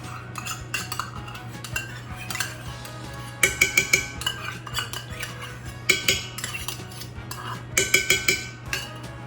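Organic pumpkin puree is spooned into a mixing bowl for cinnamon rolls: close, sharp clinks and scrapes of a metal utensil against the bowl come in quick clustered bursts over a steady low hum, with no talking.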